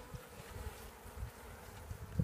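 Honey bees hum inside an open hive that is building up with fresh comb, a low continuous drone with faint swells, heard close and alone without voices.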